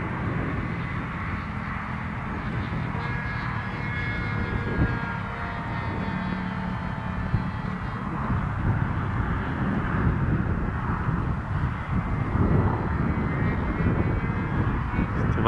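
A model airplane drones overhead as it comes in to land, its small engine giving a continuous, moderately loud buzz that wavers slightly in pitch, heard alone over faint outdoor background.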